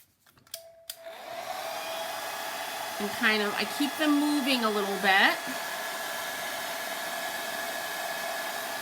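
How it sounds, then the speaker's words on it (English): A hair dryer blows steadily to dry paint on a DIY embellished birdhouse, giving a continuous even whir. A person talks briefly partway through. "I'm going to use the blow dryer to dry these"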